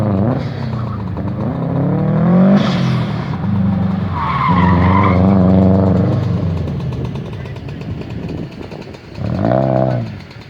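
A car runs an autocross course around cones, its engine rising and falling through repeated acceleration pulls and shifts, loud and fairly close, with a brief tire squeal-like tone.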